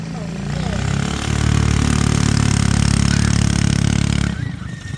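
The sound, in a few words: trike go kart engine running with new carburetor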